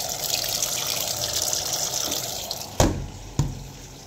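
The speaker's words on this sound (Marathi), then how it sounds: "थोडं कपडे लावले मशीनला" A washing machine fills with water, a steady rushing gush running throughout, followed by two brief knocks near the end.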